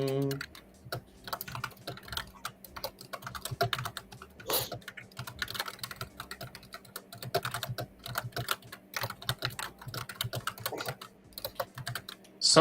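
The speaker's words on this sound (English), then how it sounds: "Somebody's typing a" Rapid computer keyboard typing clatters on and off for over twelve seconds in close, busy bursts of key clicks, with occasional louder strikes and pauses, picked up faintly over a live call.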